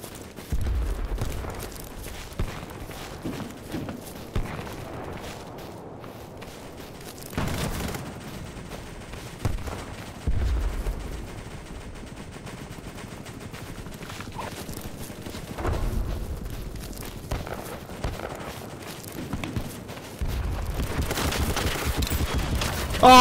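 Bursts of gunfire in the online shooter BattleBit Remastered crackle in irregular volleys, some loud and close, others distant, between quieter stretches of ambient battlefield noise.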